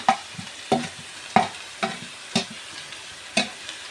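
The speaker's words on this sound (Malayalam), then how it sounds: "പിന്നെ വെളുത്തുള്ളി, ഇതെല്ലാം ഇട്ടിട്ട് വഴറ്റിയെടുക്കണം." Ginger, green chilli and garlic sauté for a country-style chicken curry: six rhythmic stirring strokes scrape through the pan over a low, steady sizzle, close up with no talking.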